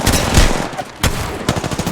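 Loud bursts of gunfire aimed at the player during an Apex match, with rapid shots in clusters broken by a brief lull, then a fresh volley and more scattered shots.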